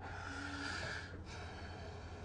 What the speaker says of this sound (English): I have an English bulldog that is snoring.